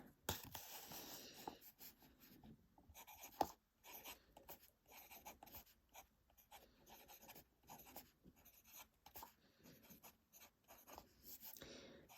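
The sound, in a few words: pen writing the ink name with Pilot Iroshizuku Yama-Guri ink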